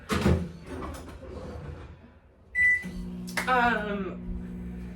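Clatter and a door-like clunk, then a microwave oven's beeps and a steady low hum as it starts heating cream of rice.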